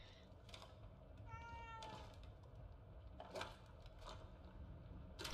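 A cat meows once, faintly, with a short harmonic cry in The Evil Within 2, amid quiet game ambience and soft clicking sounds.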